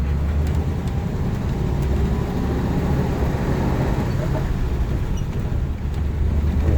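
A 1947 Ford Super Deluxe woody wagon drives along, its engine a steady low rumble with road and wind noise inside the cab, loud and continuous, with no distinct gear change standing out.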